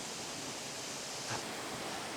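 Two waterfalls near a cave produce a steady, faint broadband rush of falling water, continuous and even throughout with no voices.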